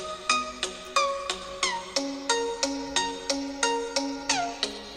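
A Huawei P30 Pro plays its ringtone through the bottom speaker: a repeating, bright electronic melody of short descending chime notes in a steady rhythm, heard alone and fairly close.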